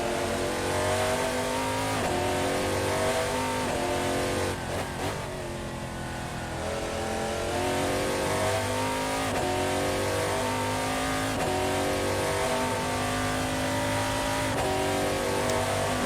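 Race car engines from Assetto Corsa sim racing in an ELMS endurance round at Monza drone and rev continuously, with repeated rising and falling gear-change sweeps across the whole stretch, loud and steady, without talk.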